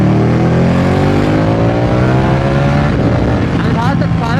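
Ducati motorcycle engine with a deep, bassy note revving up, harmonics climbing steadily then easing off, loud and close, with a voice talking over it near the end.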